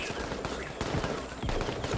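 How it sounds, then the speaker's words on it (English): Battle scene from a Vietnam War film with artillery fire, dense overlapping booms and blasts in rapid succession, loud and chaotic, with brief dips between volleys. "Artillery."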